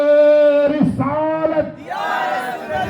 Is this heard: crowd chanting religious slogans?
yes